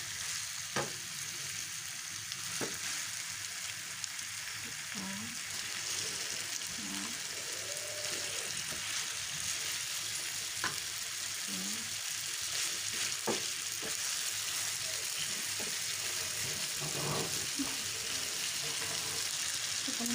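Chicken frying in a fried ungkep spice paste with turmeric, a steady close sizzle with occasional stirring scrapes and clicks running throughout.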